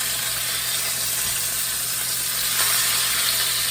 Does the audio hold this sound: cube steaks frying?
yes